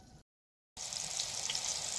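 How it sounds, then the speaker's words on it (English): Steady hiss and crackle of fish sizzling in hot oil and butter, close and continuous after a brief moment of silence. "Hear that sizzling?"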